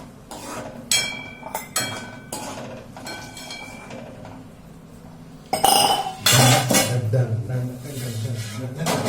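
A metal lid goes onto a pot of pasta in a home kitchen with a couple of loud clanks and rattles, preceded by lighter clinks and scattered voices nearby.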